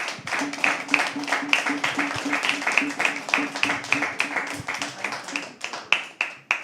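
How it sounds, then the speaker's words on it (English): An audience applauds at a live poetry open mic, with steady, continuous clapping close by and a low hum underneath, lasting throughout. "keep clapping till she comes on stage"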